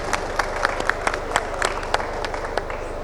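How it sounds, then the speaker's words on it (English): An audience at a panel discussion on Bangladesh denim traceability applauds steadily in a hall, a dense wash of many hands clapping with a low hum beneath. "we would like to have a clap for Mr. Mustafiz."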